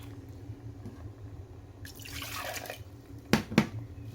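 A little water poured into a dried okra sauce with smoked fish and mushrooms, a faint short trickle and splash followed by two quick sharp drips, quiet and close over a low background hum.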